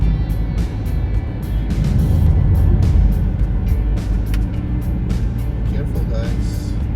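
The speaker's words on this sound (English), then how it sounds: "But I can't because I'm driving" Car driving along snowy Maryland roads after a snow storm, a steady low road rumble and engine drone from inside the cabin with faint tyre hiss, continuous and moderately loud throughout.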